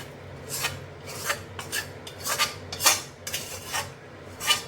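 Fried giant freshwater lobster prawns are served from the same frying pan, with a series of rough metal scrapes and clinks of a utensil against the pan, spaced unevenly and heard close with no talking.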